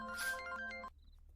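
A phone rings with a brief electronic ringtone, a short run of bright tonal notes that stops abruptly, leaving near silence.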